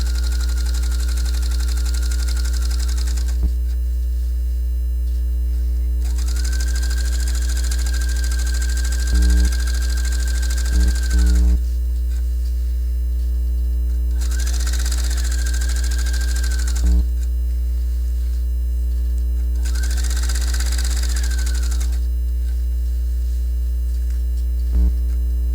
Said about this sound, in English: I am going to go ahead and do that top stitching where I didn't have it